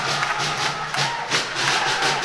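Handball fans cheer as Akureyri celebrate a win over Selfoss in an indoor arena, a loud, continuous crowd roar with yells and chanting swelling throughout.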